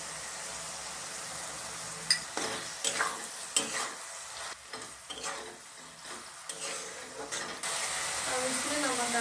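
Cabbage and fish head masala with tomatoes frying on a low flame, a steady sizzle and hiss in the pan broken by a series of scraping, clanking stirs in the middle, close and moderately loud.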